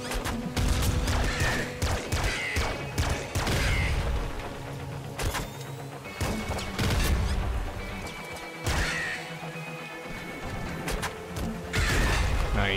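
Rapid gunfire from Nuclear Throne, a top-down shooter, with a grenade launcher in play: dense bursts of shots, crashes and booms overlapping nonstop at close, loud range, with only brief lulls between volleys.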